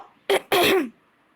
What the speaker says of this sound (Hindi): तबीयत खराब की वजह से थोड़ी सी खांसी आ रही है